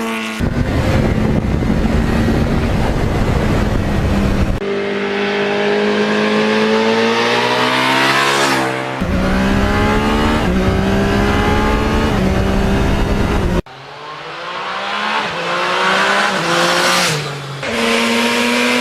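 A Yamaha R1 crossplane sportbike engine revs hard and climbs through gears with a quick shifter, loud and close, with rising engine pitch broken by abrupt shift cuts, one long pull after another without talk.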